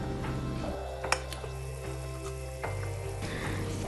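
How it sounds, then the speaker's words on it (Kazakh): Tomatoes and carrots frying in a pan for a cabbage roll sauce, giving a steady crackling sizzle with an occasional clink of a utensil against the pan and a low hum in the background. "қызанақ, сәбіз үшеуін жақсылап қуырып аламыз"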